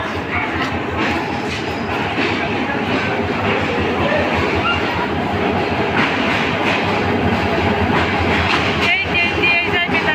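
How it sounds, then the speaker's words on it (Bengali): A train rolls into a railway station, a loud, continuous rumble with rhythmic wheel clatter and occasional squeals, heard close by while people on the platform talk. "এই তো ট্রেন ঢুকতেছে স্টেশনের মধ্যে।"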